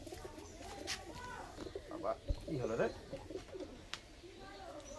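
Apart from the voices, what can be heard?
pigeons in a loft, Najra Kaldum pigeons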